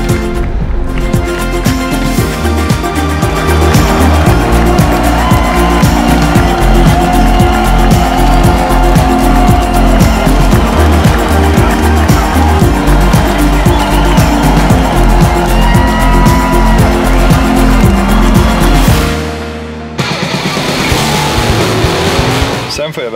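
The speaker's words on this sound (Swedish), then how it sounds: "Sen får jag iväg för att filma Drag Race. Det fanns en hel del minst sagt starka fordon där." Powerful drag racing cars at the annual harbour festival in Luleå, with loud engines roaring and tires squealing, under a dense, rhythmic layer of other sound that drops out briefly near the end.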